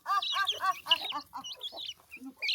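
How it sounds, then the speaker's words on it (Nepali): Village chickens in rural Nepal clucking close by: a quick run of busy, overlapping clucks and short calls in an otherwise quiet setting, with no talking. "अनि कुखुराहरू उता जान्छन्"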